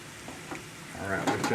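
Pork chops fry in a pan, a continuous close sizzle that swells toward the end, with a voice speaking briefly underneath.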